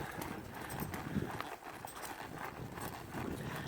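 Hooves clip-clop steadily on the ground as a young horse, about 50 days into training, works through groundwork and lunging, the rhythmic footfalls close and clear throughout.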